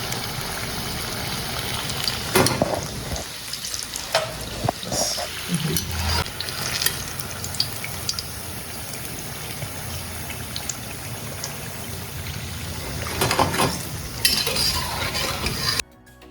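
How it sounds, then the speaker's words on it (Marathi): Jackfruit caripori frying crisp in hot oil makes a steady bubbling sizzle with stirring clinks and occasional louder splashes, close by and continuous for about sixteen seconds. "याचे छान कलर आला आणि क्रिस्पी फ्राय झाला की काढायचं."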